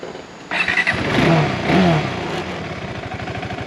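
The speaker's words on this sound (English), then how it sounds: "Just gonna start the bike here." A motorcycle engine starts on a steep hill in Taiwan. A short, quiet lead-in is followed by a sudden loud catch into a rough, throbbing idle that swells briefly and then settles into a steady pulsing rumble close by.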